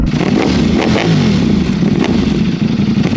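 A motorcycle engine runs loud and close, revving with a rough, throbbing rumble that rises and falls.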